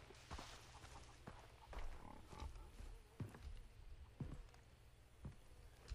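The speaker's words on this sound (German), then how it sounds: "Ich habe Schweinis gehört." Pigs in the Far Cry 3 video game grunt and snort in short, scattered bursts at a moderate distance, over quiet outdoor ambience.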